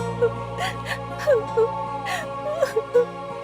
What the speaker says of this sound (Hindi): अरे, ये कौन है जिसकी मुझे रोने की आवाज सुनाई दे रही है?